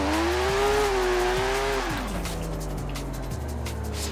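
A car driving in Forza Horizon 4. The engine drone rises steadily, then drops in pitch at gear changes and settles into a lower hum. It is loud and close, with no talk.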